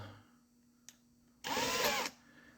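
A brief tick, then a power drill chucked onto an engine valve spins up for about half a second with a loud whirring buzz before cutting off, leaving near silence.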